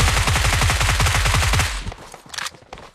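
Rapid automatic gunfire from a video game rattles loudly in a dense burst for over a second and a half, then cuts off, followed by a few scattered quieter impacts and game sounds.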